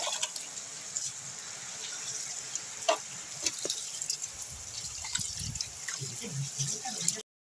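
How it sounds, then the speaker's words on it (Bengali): Rice is washed by hand in water, with close, soft sloshing and splashing that keeps a continuous watery texture and a few louder swishes. "চালটা আমি ভালো করে রগড়ে রগড়ে ধুয়ে নেব"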